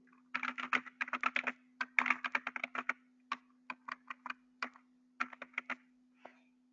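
Fast typing on a computer keyboard, a bursty run of crisp key clicks with short pauses between flurries, close and clear over a steady low electrical hum, with no talking.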